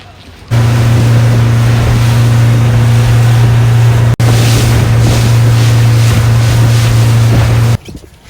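A motorboat engine drones loudly and steadily over rushing sea water and wind at Boracay, with a brief cut midway, running for several seconds before dropping away.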